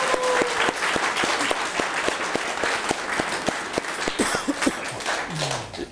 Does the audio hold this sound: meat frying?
no